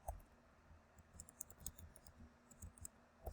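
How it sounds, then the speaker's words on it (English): Soft, quiet clicking of computer keyboard keys in an irregular typing rhythm, a few separate keystrokes scattered over a few seconds with no voices. "So I would type the article, Nathaniel"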